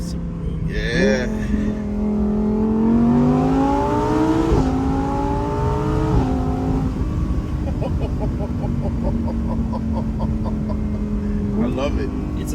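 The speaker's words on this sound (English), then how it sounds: "The engine is just so savage and like it sounds like the world is ending" An Audi RS6 Avant engine revs and pulls hard at close range, its rising and falling drone steady and loud throughout, with people talking over it.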